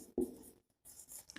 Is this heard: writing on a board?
yes